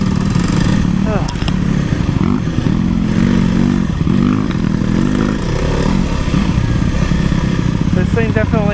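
A Kawasaki KLX300R dirt bike engine runs loud and close, with a steady droning roar and rough clatter buried under heavy wind noise throughout.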